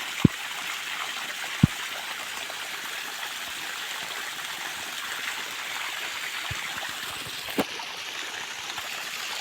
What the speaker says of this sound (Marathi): बघा जवळपास दहा ते बारा नळ्या चालू आहेत